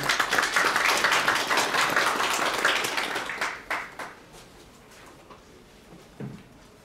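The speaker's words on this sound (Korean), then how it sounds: "큰 박수로 맞아주시기 바랍니다" An audience applauds at the launch ceremony of a human rights violation support center at the Korea Press Center, a dense round of clapping that tapers off after about four seconds into near silence.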